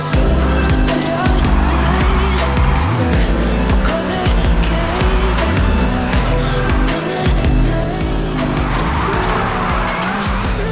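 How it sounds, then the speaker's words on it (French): A car drifts in the racing game Need for Speed Heat, loud engine roar with long tire squeals and skids sweeping up and down, while someone talks over the gameplay. "Hop là, bon petit drift encore."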